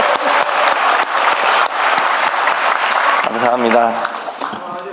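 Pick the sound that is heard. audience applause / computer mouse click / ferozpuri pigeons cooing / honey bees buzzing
audience applause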